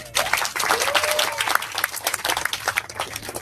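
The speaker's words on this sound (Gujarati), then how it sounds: "હજી એકવાર તાળીઓ થઈ જાય" An audience claps and applauds for the whole stretch, a dense, sustained patter of many hands with a few scattered shouts mixed in.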